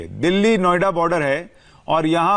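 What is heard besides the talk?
No distinct noise like a dog, phone or traffic.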